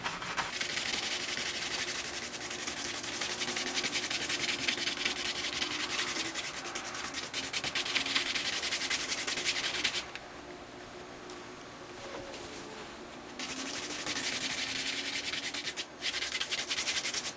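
Oil paint scrubbed onto canvas with a paintbrush in circular and crisscross strokes while blending a sky, a steady close rubbing hiss that runs continuously, easing briefly in the middle before resuming, with no talking.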